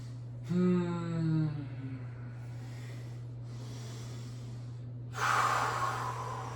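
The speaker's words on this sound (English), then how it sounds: "Take a few breaths." Heavy breathing after a weight-lifting exercise: two loud, close gasping breaths, each drawn out over a second, with quiet stretches and a steady low hum between them.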